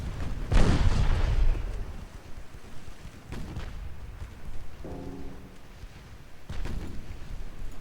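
Naval 6-inch and 3-inch guns fire in Ultimate Admiral Dreadnoughts with a heavy booming salvo, then lighter distant reports, a short humming tone and another loud boom, separated by rumbling background noise.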